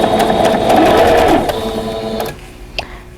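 A sewing machine stitches pieced quilt block fabric with a fast, even mechanical whirring and rapid needle clatter, then slows and stops near the end.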